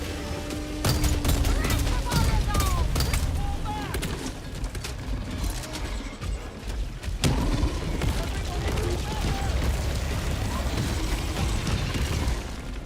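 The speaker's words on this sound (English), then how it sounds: "Did they just shoot a recoilless at that thing?" Recoilless rifle fire and explosions in a video game, booming repeatedly through almost thirteen seconds of continuous battle noise, with several sharp bursts and sustained rumbling, loud and close throughout.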